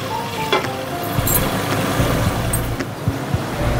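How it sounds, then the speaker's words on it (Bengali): Pabda fish frying in hot oil, a steady sizzle with sharp spattering pops and crackles scattered throughout, close and fairly loud, with no speech. "পাবদা মাছ ভাজতে দিলে না ভীষণ ফাটে"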